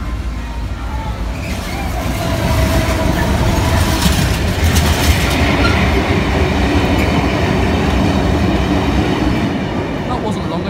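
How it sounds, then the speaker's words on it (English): A short freight train, 66570, rumbles past nearby at Lincoln High Street level crossing with a steady rolling roar and some rail clatter, swelling after the first couple of seconds and holding to the end. "Here's that very, very short freight."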